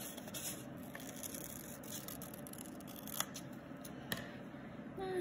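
Scissors snip through paper during an abstract-painting craft session. A few faint, brief cuts and scrapes sound close by against a quiet room hiss, with no talking.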